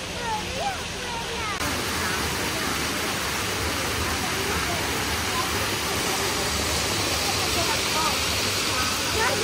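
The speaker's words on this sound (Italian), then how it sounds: "Nell'acqua del desiderio, nella fontana." A wishing fountain in Catania splashes steadily in a continuous broadband wash of falling water, close and fairly loud, with children's and adults' voices chattering over it throughout.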